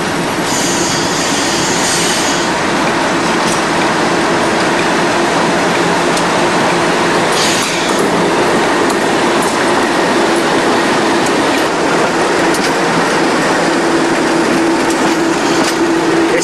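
Two Class 37 diesel locomotives run round a train of empty wagons at night, a loud continuous rumble of engines and rolling wheels with faint squeals and clanks throughout.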